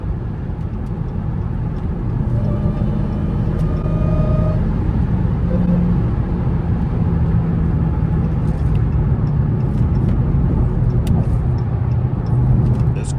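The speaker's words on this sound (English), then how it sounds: "This Christmas traffic ain't no joke." Heavy Christmas traffic surrounds a Hellcat Charger, a steady, loud low rumble of engines and road noise from inside the car, with no talking.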